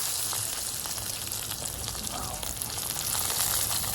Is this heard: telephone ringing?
no